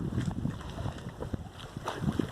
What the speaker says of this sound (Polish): Wieje wiatr, pewnie słabo mnie słychać